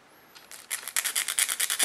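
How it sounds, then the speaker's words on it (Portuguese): A nail file rasps back and forth across pointed, tiger-claw style fingernails, the close, bright scraping strokes starting faintly and then settling into a steady, quick rhythm of about a dozen strokes. "Tentando manter a lixa sempre no meio."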